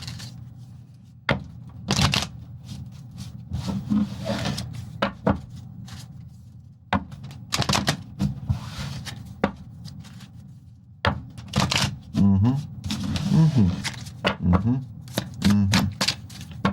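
Tarot cards being shuffled during a live reading, giving repeated crisp riffling and tapping bursts in an irregular rhythm, close and fairly loud, with a voice speaking at points.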